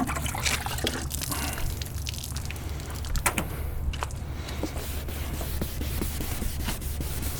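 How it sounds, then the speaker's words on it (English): A sponge is re-wetted with water while sanding a car headlight, giving a soft, steady trickle and splash that runs for several seconds with small drips and clicks over a low constant background hum. "Re-wet my sponge."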